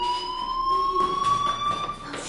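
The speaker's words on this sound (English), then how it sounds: "do you hear that fire alarm?" A fire alarm rings in a video game, a steady electronic tone held throughout with a faint harmonic layer, loud and continuous over a muffled background with light movement.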